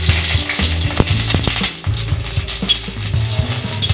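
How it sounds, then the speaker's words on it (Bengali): Whole spices (bay leaves, cinnamon, cardamom, cloves and cumin seeds) crackling in hot oil over a medium flame, a close sizzle with sharp pops and a few stirring knocks. "এখন আমি ফোড়নটা দিয়ে দিচ্ছি"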